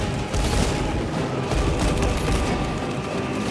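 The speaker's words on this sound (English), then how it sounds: "Melter bomb deployed." Melter bomb detonating in Warhammer 40k: Space Marine 2, a dense, sustained roar of explosive blasts and rattling gunfire filling the whole stretch, loud and continuous with no clear gaps.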